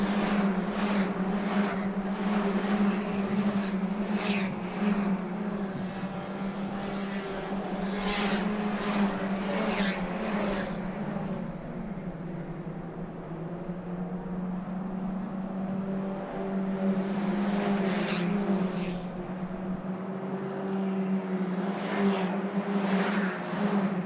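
Race cars roar along a circuit's main straight, a sustained loud engine drone that swells and fades as cars pass in succession, with repeated passes and a brief lull midway; no talking.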